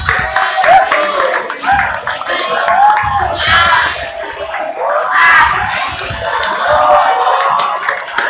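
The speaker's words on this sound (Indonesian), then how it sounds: "Kita yel-yel dulu ya" A school crowd at a Bulan Bahasa language month event shouts a rhythmic group cheer chant together, loud and lively, with scattered claps and excited voices mixed throughout.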